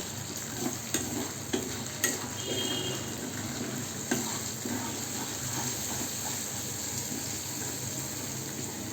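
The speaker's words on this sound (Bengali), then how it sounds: "এবার সস দিয়ে মশলাটা আমি বেশ ভালো করে নেড়ে চেড়ে নেব।" A spice mix and sauce stirred in a frying pan, giving a steady sizzle and wet scraping under a few sharp clinks of the utensil against the pan, close and continuous.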